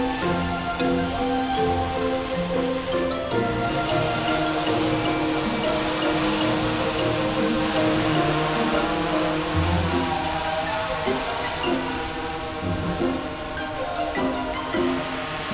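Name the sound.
food delivery drone arriving over an opened roof in Shenzhen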